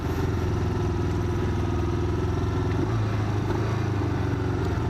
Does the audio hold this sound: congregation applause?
no